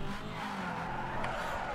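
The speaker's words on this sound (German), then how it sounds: "Oh, das wird jetzt ein schöner Drift." A car drifts in Need for Speed Underground 2 with a sustained tire squeal and skidding over engine drone, loud and continuous for under two seconds.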